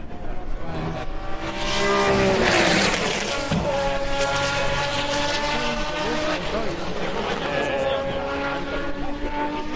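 A Silk Cut Jaguar Group C race car roars past close by, its engine note rising to a loud peak then sweeping down in pitch as it moves away, steady engine noise throughout.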